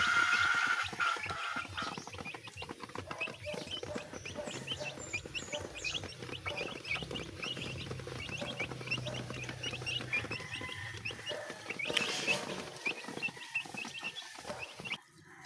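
Chickens cluck and chatter continuously at moderate distance, with scattered sharper calls and a busy farmyard bustle.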